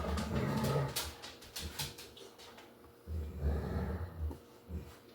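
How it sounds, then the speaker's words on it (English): Dogs growl low and rumbling nearby in uneven bursts, mixed with snorting breaths, fading and returning a few times. "Would y'all stop growling?"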